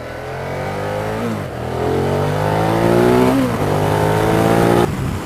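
Ducati Diavel Carbon sport cruiser motorcycle, a 2015 model, pulling hard through the gears, its engine note rising steadily, dipping at each shift and climbing again, loud and close with no talking.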